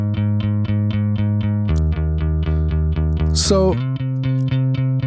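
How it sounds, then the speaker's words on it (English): Dry synth bass from an electronic pop production, all plugins bypassed, pulsing in a steady repeated rhythm with a few pitch changes and a brief sweeping rise near the end; a voice speaks one short word at the start. "that's a pretty solid bass sound unto itself"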